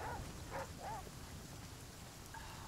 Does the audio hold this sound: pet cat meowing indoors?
no